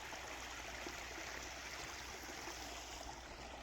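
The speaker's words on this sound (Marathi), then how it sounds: "खळखळ पाणी चाललंय" Water gushes steadily from a burst farm pipeline left running with the pump motor on, a continuous loud rushing and gurgling flow close by with no pause and no voices.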